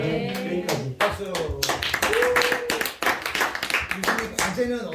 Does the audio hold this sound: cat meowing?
no